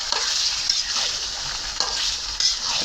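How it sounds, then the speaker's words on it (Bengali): Beef pieces frying in spiced oil for a dry bhuna, a continuous close sizzle broken by a few scraping stirs of the spoon against the pan. "আর মাংসটা ভালো করে কষামো।"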